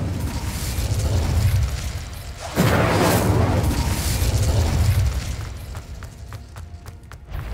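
In Hogwarts Legacy, an Incendiary fire spell bursts with a loud rushing whoosh and roaring flare that swells, holds for a few seconds, then fades into crackling game ambience.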